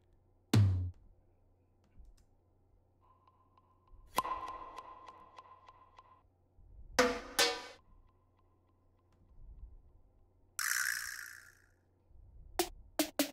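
Sparse electronic percussion hits scattered over a quiet, low hum: sharp clicks, a buzzing tone, a noisy swish and a few tight snaps, irregularly spaced.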